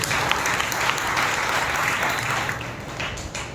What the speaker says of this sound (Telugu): బిగ్గరగా చప్పట్లు కొట్టి ప్రభువుని భయపరచండి